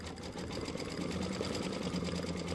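A machine-embroidery unit stitches a Christmas star block at a steady fast pace, with a continuous close mechanical whirr and rhythmic needle chatter.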